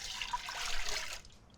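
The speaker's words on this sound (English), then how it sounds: "First thing, water goes in." Water pours in a steady stream into a bowl for smoked potato bun dough, running for about a second before stopping abruptly, with no talking.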